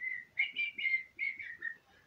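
A person whistles a short, tuneful melodic phrase of several sliding notes, clear and close, with faint background beneath, part of a rap song.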